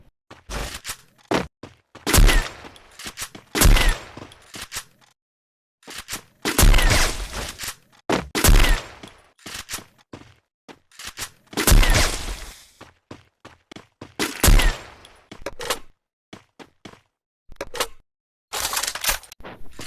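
A sniper rifle fires again and again in a shooting video game, each sharp shot cracking loudly and echoing before a short silence, in irregular bursts with no talking.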